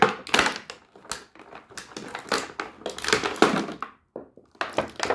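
A Mattel WWE Elite Legends Undertaker action figure is pulled from its plastic box with close crinkling, tapping and hollow thunks of the packaging in uneven bursts, briefly pausing before more rustling.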